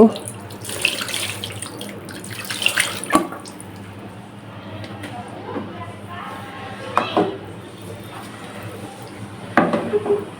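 Water runs and splashes into a cooking pot for a cauliflower and fish curry, mixed with utensil clatter and rising in bursts, while a voice talks over parts of it.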